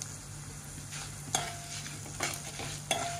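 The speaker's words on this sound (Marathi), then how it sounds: "आणि आपण ना तेलात आता परतवून घेऊया।" Whole spices and broken dried red chilies frying in hot oil with sesame seeds, a steady close sizzle broken by a few sharp stirring scrapes and crackles.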